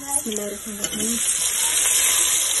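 Tomatoes and chillies hit hot oil in a frying pan, giving a steady close sizzle with faint stirring and tonal clinks at the start.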